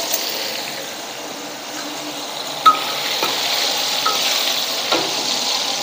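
Steady sizzling of vegetables stir-frying in a hot pan for nasi goreng, with a few light clinks of a utensil stirring through it.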